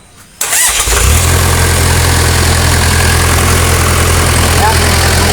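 Engine of a model HH490 being repaired at home cranks and catches after a brief quiet moment, then settles into a loud, steady idle with a constant low throb, close to the microphone.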